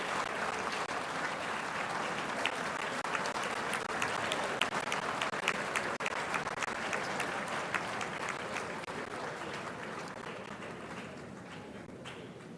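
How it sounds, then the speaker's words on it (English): A large crowd at a university congregation ceremony honours an emeritus guest with a long, sustained round of applause. The thick, even clapping carries on for over ten seconds and softens slightly toward the close. "A loud round of applause to Emeritus."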